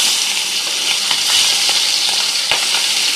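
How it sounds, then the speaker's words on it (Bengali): Tengra and deshi shing fish frying in hot oil, a dense, bright crackling sizzle that holds steady and close, with a few small pops and spits. "তারপর তেলটা গরম দিয়েছি, এখন মাছগুলো একটা একটা করে দিয়ে দিব।"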